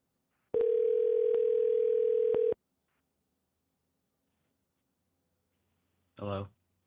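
A telephone dial tone hums steadily for about two seconds during a call back to a fan on a sports call-in show, then cuts off; a brief voice follows after a pause.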